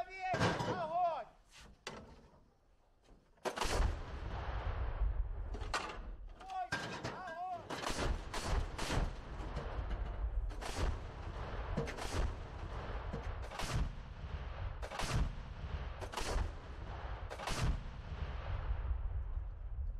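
Artillery fire in combat during the defence of Bakhmut: a shouted command, then a series of sharp, loud booming shots at roughly regular intervals, close by, with some voices between the blasts.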